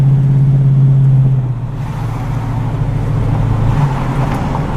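A 1947 Ford coupe driving along, its steady low engine drone and road rumble holding close and fairly loud throughout, easing slightly after the first second or two with no talk over it.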